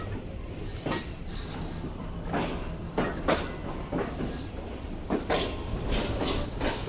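Pak Business Express train pulling out of Lahore Junction, a steady rumbling roll with periodic clacks of wheels over rail joints repeating every second or so, moderately loud and continuous throughout, no voices.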